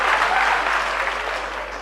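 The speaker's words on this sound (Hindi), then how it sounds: "तालियां बजनी चाहिए हमारे एक तरफ से।" Dense, steady applause from a large audience at an All India Mushaira poetry gathering in Bhiwandi, sustained and even across the whole moment without a break.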